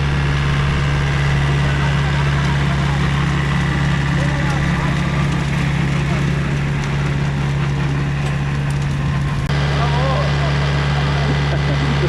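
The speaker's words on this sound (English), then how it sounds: "But yeah, very nice tractor," A tractor engine runs on a cherry farm in central Portugal, a loud, steady low idle drone throughout, with a person talking over it.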